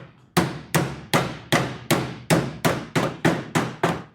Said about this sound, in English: I think I'm gonna take the big hammer, lump that in